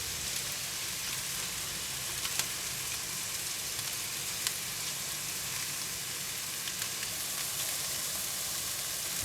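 Butterfly shrimps sizzling on a hot grill with crispy garlic, a steady close frying hiss with faint pops and crackles throughout, no talking.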